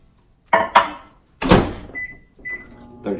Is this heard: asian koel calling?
no